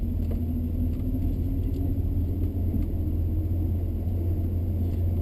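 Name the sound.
1966 Plymouth Fury III driving off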